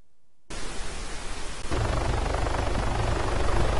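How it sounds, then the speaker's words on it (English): Helicopter hovering in the military game Arma 3: silence gives way to a loud, steady broadband rotor and engine roar that swells and thickens partway through, then holds constant with no talk. "Okay, our helo is floating in the air over there."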